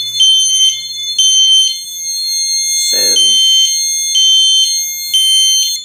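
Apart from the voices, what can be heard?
fire alarm sounding from miniature pull station alarm panel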